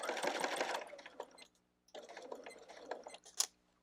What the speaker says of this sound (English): I'm going to sew all the way to the corner.